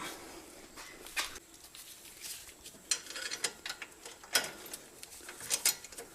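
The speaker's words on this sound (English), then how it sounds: "go ahead and tighten those up" A ratchet tightening bolts on a Fiat 500's front suspension gives quiet, irregular bursts of rapid clicking with short pauses between strokes, close by and with no talking.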